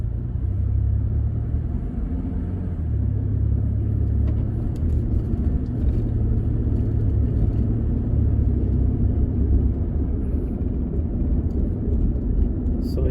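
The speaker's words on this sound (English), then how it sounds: "I'm driving a Ford Expedition today" A Ford Expedition drives along, its steady low road rumble and engine drone continuous and close throughout, as heard from inside the cabin near LAX.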